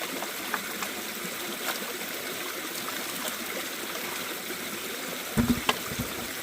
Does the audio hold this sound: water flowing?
yes